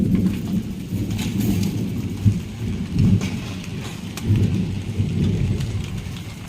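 Low thunder rolls and rumbles in several swelling waves over a steady patter of rain during a rainy-season storm, with no voices.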